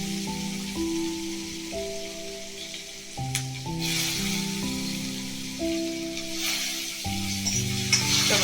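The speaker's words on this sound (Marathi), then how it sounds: "टोमॅटो परतून घेऊ." Tomatoes sauté in a pan with a soft, constant sizzle like light rain, set under a quiet instrumental melody with a few sharper crackles and spatters.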